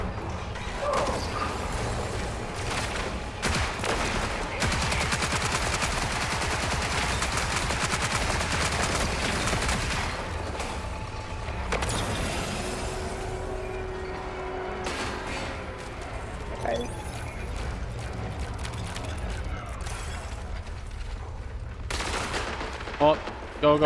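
Sustained automatic fire from a Retaliator gun with a purple magazine in a video game, a dense, continuous rattle of shots running for the whole stretch, with voices talking over it.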